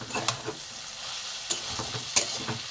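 Kochur loti (taro stolon) curry stirred in a pan on a lowered gas flame, with a soft continuous sizzle broken by several scraping strokes and clinks of the spoon against the pan.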